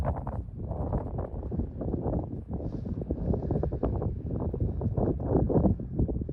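Strong, cold wind at Black Mesa, Oklahoma buffets the microphone in a continuous loud rumbling roar, gusting unevenly throughout with no voices.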